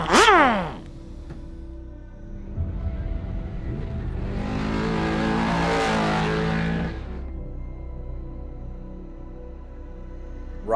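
An off-road race vehicle roars into a Baja 500 pit stop, its engine swelling loud and close for several seconds before dropping to a rough idle, over a low steady rumble.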